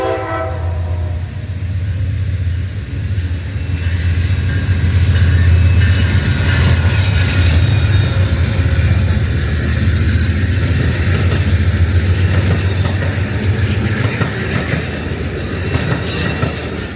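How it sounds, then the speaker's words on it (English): Amtrak's long southbound Auto Train from Lorton, Virginia, passes loudly behind P40 diesel locomotives at Ashland, Virginia: heavy engine drone, clattering wheels and a horn sounding, building and holding throughout. "the southbound auto train from Lawton, Virginia to Sanford, Florida"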